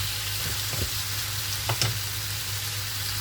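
Onions and meat cooking gently in a pan give a soft, steady sizzle throughout, with a few faint clinks and stirring sounds partway through.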